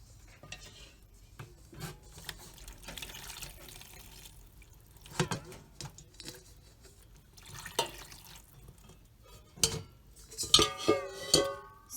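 Water is poured onto potted succulents, with soft trickling, splashing and dripping in short irregular bursts, close and fairly quiet, alongside occasional light rubbing and handling noises.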